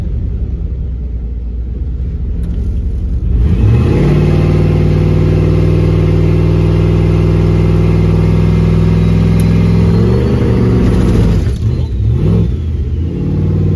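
A turbo LS-powered Caravan sits at a low, rumbling idle, then its engine jumps to a loud, sustained high rev held against the brakes for several seconds before dropping back and wavering through uneven revs, close and with no voices.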